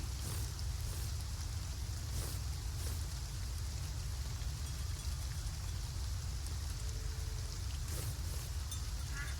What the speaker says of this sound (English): It's raining in my game, and I'm hearing the rain.